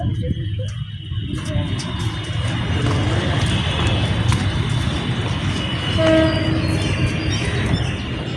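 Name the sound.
train arriving at station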